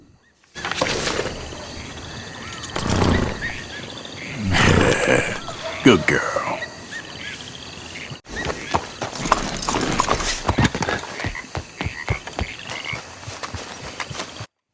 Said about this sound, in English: Listen to those ambient swamp noises, the frogs and the crickets, and also the occasional gator growl